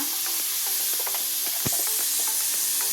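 Grated Indian gooseberry and turmeric fry in a pan with a constant close sizzle, as repeated stirring scrapes and taps over it steadily throughout.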